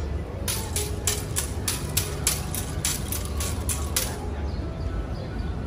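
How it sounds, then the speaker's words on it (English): A pu'ili, a hula implement of split bamboo, is rattled in a rapid, steady run of about a dozen dry, crisp clacks, then stops, outdoors at the Royal Hawaiian Center in Oahu with ambient crowd noise underneath. "The pu'ili is the split bamboo,"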